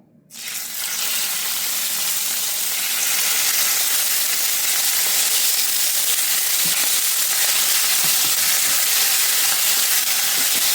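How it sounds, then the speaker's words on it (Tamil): Chicken frying in extra oil in a pan for a rice noodle dish: a loud, dense, continuous sizzle that starts abruptly and holds steady, close up with no voices. "இன்னும் கொஞ்சம் எண்ணெய் விட்டு சிக்கனை வறுத்து எடுத்துக்குவோம்"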